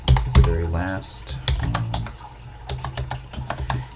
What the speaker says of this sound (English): I am kind of sidetracked by typing this stuff out